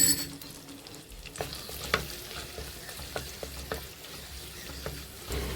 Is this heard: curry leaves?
yes